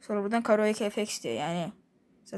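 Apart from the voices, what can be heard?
No everyday noises stand out.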